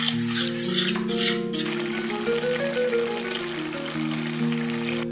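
Sing bhujiya curry stirred with water in a pan, a steady bubbling sizzle with scraping strokes under a sustained tonal hum, close and continuous.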